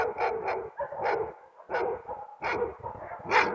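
A dog that has just been let loose barks repeatedly at night near a barn, a series of sharp, moderately near barks with short gaps between them.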